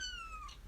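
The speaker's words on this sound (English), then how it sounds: "My cat is complaining that I'm not paying enough attention to her whilst making this video." A house cat meows for attention, one drawn-out falling meow with a slight rise near the end, close but faint, over a low background hum.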